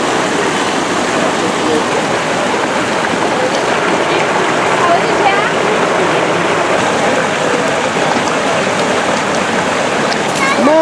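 Steady rushing river water just above a waterfall in a construction truck video game, a loud continuous roar with faint splashes throughout.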